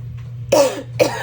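Two harsh coughs from someone with a cold, close to the microphone, the second shorter, over a low steady hum of a washing machine in the background.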